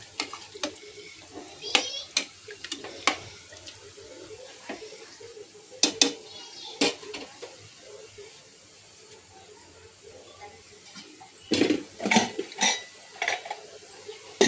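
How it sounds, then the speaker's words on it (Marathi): Metal pots and a pressure cooker clank and knock as the cooker is set up for mutton pulao, with scattered sharp clangs, a quieter stretch, then a busier cluster of clattering, all close by in a home kitchen. "कुकर लावून घेते"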